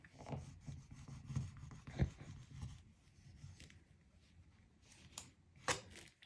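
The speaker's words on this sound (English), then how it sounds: "I can actually use my scraping tool" A handheld scraping tool rubs and scrapes across layered cardstock while a slimline sympathy card is being made, producing faint, irregular dry scratching strokes with a few sharper scrapes near the end.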